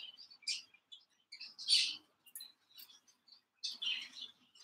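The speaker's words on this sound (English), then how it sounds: "all you can hear is my birds in the background" Pet budgies chirp and twitter in quick, scattered bursts of high tweets, some close and bright, with quiet gaps between.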